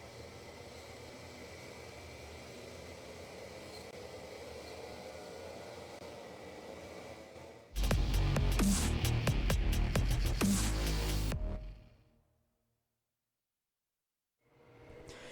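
Club100 lightweight racing karts idle on the starting grid at Whilton Mill before a C-Final, a steady engine drone in the distance that turns into a loud, close, harsh roar for a few seconds and then cuts to silence.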